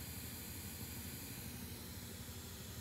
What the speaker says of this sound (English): So you can hear some kind of soft ticking, and then you hear the hissing.